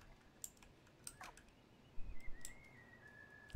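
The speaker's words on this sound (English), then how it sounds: "Someone's whistling." A faint, thin whistle drifts in the video game Stray, a long sliding tone under soft clicks and scattered small taps, with no one talking.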